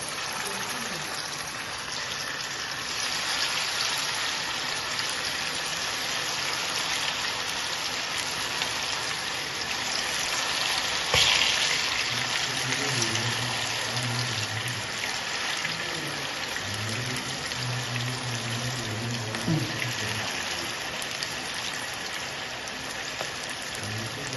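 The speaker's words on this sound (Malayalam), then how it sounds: "ഇതിലേക്ക് നമ്മുടെ ചിക്കൻ ഓരോരോ പീസായിട്ട് ഇട്ട് കൊടുക്കാം" Chicken pieces dropped into hot oil fry with a dense, steady rain-like sizzle that runs the whole time, swelling slightly partway through, with faint tonal sounds briefly rising underneath.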